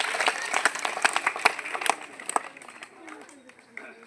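A group of schoolchildren at a cleanliness awareness event clap in a burst of sharp, uneven claps that thin out and fade after a couple of seconds, leaving faint scattered sounds.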